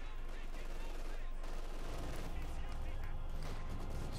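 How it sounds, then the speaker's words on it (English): Machine gun fire rattles in a Company of Heroes 2 battle, dense and continuous bursts mixed with other gunfire and explosions, loud and constant throughout with voices in the mix. "Machine gun there holding up."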